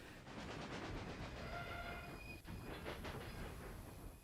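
Trains in the railway strategy game Railway Empire give a continuous rumbling, clattering run, loud and steady throughout, with faint tonal squeals threading through the rolling noise.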